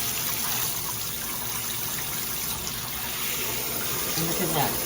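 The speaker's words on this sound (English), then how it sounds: "This is a regular shower." Water runs steadily from an ordinary shower head, a continuous broadband hiss and splash holding level for the whole stretch, with a faint voice murmuring underneath.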